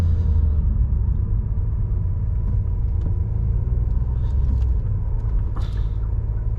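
A 2017 Acura NSX heard from inside on the move, its engine a steady loud low rumble that dips and shifts as it downshifts, with no talking.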